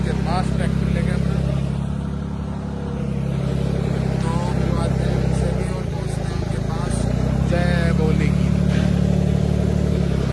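Tractor engine running steadily while driving on a road, a constant loud low drone throughout with people talking over it.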